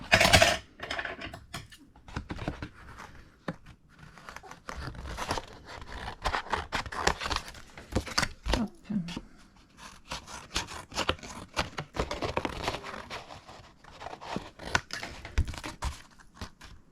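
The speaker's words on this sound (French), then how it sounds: "je vais venir découper mes bords" Scissors cut along paper edges in quick, irregular bursts of crisp snips and rustling, close up and fairly quiet, with brief pauses between cuts.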